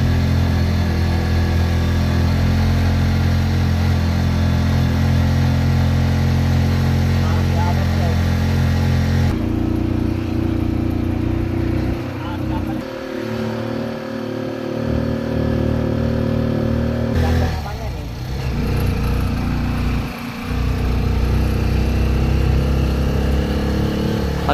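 The engine of the Chariot 175 drones steadily while driving on a hot day on the road from Batangas to Tarlac, a constant low hum with shifts in tone and wind rumble.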